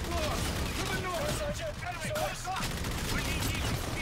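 Dense gunfire from the Infinite Warfare video game campaign crackles in rapid, overlapping bursts of automatic fire, with mechanical clatter mixed in and a voice speaking over the steady barrage.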